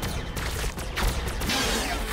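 Scattered gunfire bursts from the Warhammer 40k Battlesector strategy game, a few sharp shots layered over steady battle noise at a constant loud level, with no talk.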